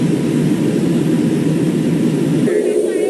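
Inside an Alaska Airlines passenger cabin in flight after a door plug separation, a loud, steady roar of rushing air and engine noise fills the space, with faint voices rising near the end.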